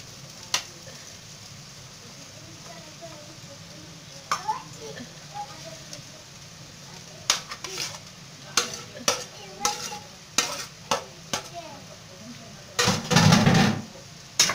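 Cut beef fat cooks in a pan with a soft sizzle beneath a series of sharp stirring and scraping knocks, growing busier toward the end, with a brief burst of louder frying.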